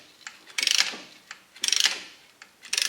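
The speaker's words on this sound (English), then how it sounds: "So we're just going to ratchet this until it is compressed in all the way." A ratchet clicking as it compresses a brake caliper piston on a 2007–2017 Toyota Camry during a front brake job, three close, crisp bursts of rapid clicks with short pauses between.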